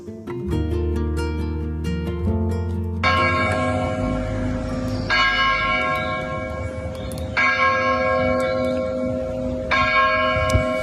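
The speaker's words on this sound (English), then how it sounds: "That's the sound of the bells ringing out of Glenewick Church" Church bells of Glenelg church peal in a steady, overlapping cascade, loud and resonant, with repeated strikes layering into a continuous ringing chime with no voices.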